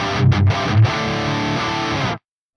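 An electric guitar plays through the overdrive channel of a Soldano SLO100 amp model, producing a short burst of thick, saturated chords with a couple of accented hits, then stopping cleanly after about two seconds.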